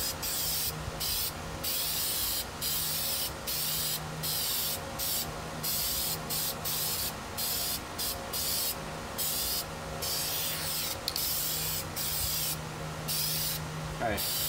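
Continuous hissing aerosol spray of Plasti Dip onto a Buell XB9SX motorcycle tank cover outdoors over cardboard, loud and close, in steady bursts with brief pauses between passes.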